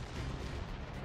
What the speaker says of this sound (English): Missile controls engaged. Launch ability confirmed. Fire!